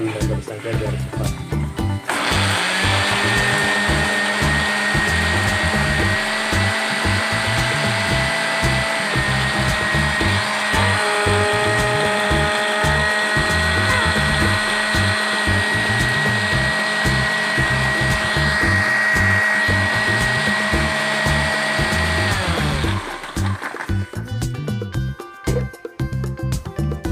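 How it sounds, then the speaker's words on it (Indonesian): An electric blender grinds spice paste for fried chicken, a loud, steady, close motor whir running about twenty seconds before cutting off, with no talking over it. "Kita haluskan menggunakan blender saja biar cepat."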